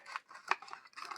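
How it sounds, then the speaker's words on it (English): Faint, close crinkling and snapping of a plastic blister card as a Hot Wheels toy car is pulled free, with a sharper click partway through and light rustling around it. "That's the sound of a free Hot Wheels."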